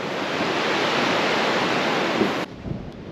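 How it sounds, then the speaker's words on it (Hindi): A mountain river in Uttarakhand's Darma Valley rushes over stones below a wooden bridge, a loud, steady roar filling the air before cutting off abruptly near the end. "ये देखो भाई ऊपर से जो नदी आ रही है, उस नदी का नाम पागल नदी है"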